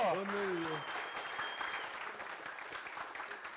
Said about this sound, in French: Applaudissements pour Agozo